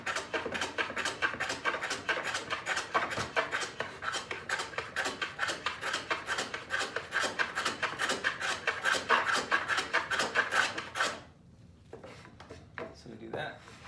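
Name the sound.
cutting a relief on the back of wood trim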